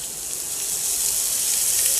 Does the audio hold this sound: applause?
no